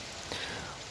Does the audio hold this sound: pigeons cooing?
no